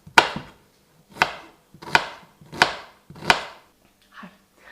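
Onions and leeks are chopped on a cutting board, five sharp knife strikes spaced about a second apart, close and crisp, followed by a softer scraping knock.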